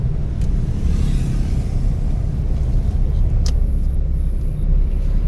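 A car in low gear during a driving lesson, its engine giving a loud, steady low rumble and vibration that holds constant throughout, heard from inside the cabin with no voices over it.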